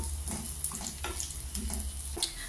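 Cashews and raisins frying in a pan for payasam, a faint continuous sizzle with light stirring scrapes and small crackles, close and without talk.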